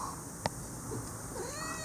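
A pet kitten gives a short, clear meow close by, followed by softer rising mewing sounds near the end against a quiet indoor room.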